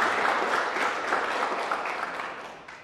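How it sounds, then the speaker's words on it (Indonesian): Audience applause fills a gathering at a public outreach session on election oversight, a dense, steady patter of many clapping hands that stays loud throughout before tapering slightly near the end. "Berikan aplaus yang meriah untuk amin."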